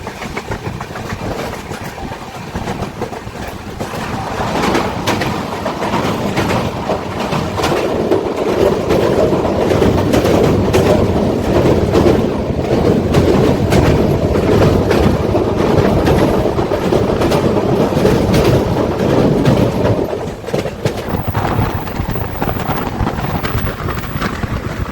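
The Kamrup Express rolls steadily along the rails with a loud, continuous rumble and rhythmic clickety-clack of the coach wheels. Wind buffets the microphone throughout, and no one speaks.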